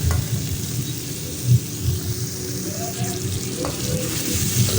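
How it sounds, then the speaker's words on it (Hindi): Chicken pieces frying in a pan for Kabuli pulao give a steady, close sizzle with occasional stirring scrapes, no one talking. "चिकन जो है वो थोड़ा ज़्यादा टाइम लेती है फ्राई होने में"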